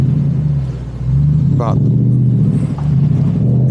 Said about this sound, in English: You do hear the engine